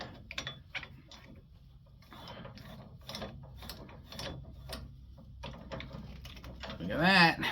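A flathead screw being turned out of a Shopsmith carriage wheel, a close series of dry rhythmic clicks and scrapes with short pauses, someone talking lightly over it and a squeaky metal rasp near the end.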